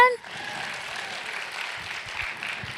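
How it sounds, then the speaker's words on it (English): A crowd applauds panelists at a youth environmental council launch, a steady, moderately distant wash of clapping that fills the clip after a brief voice at the very start. "Round of applause for my panelists there, man."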